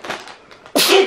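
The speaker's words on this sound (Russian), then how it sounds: "Будьте здоровы." A single sharp sneeze from a person at home, close and loud, coming after a brief breathy intake.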